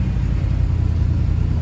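A 1966 Plymouth Valiant Signet convertible with a 4-barrel carburetor idles nearby, its engine giving a steady, loud low rumble without revving.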